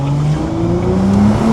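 A 2022 Nissan GT-R Nismo pulls hard in second gear, its engine note climbing loud and close in a rising roar with a faint tire-noise edge.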